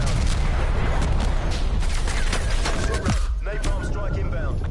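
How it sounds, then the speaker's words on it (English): Artillery strike explosions in Call of Duty: Cold War, a dense, loud barrage of booms and gunfire-like blasts rolling continuously through the clip, with a game voice announcing over the battle noise. "Hostile artillery targeting active."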